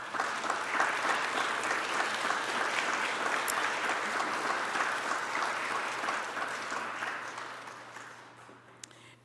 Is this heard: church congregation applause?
yes